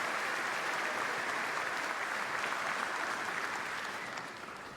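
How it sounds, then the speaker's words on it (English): A large audience at a basketball Hall of Fame induction ceremony gives a dense, sustained round of applause, steady for about four seconds before it begins to fade. "Let's have one more round of applause for the families of Chuck Cooper, Earl Lloyd, Nathaniel Sweetwater Clifton."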